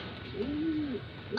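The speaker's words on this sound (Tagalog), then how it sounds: "at ito po kalapate din" A pigeon gives a single soft, rounded coo, close by and clear, rising and falling once against a light background hiss, with no talking over it.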